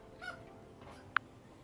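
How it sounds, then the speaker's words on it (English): A pet parrot calls from the background of an indoor space, a couple of faint squawks followed by one brief, sharp chirp standing out over low room noise. "My parrot thinks that I'm talking to her, so she's you can hear her in the background."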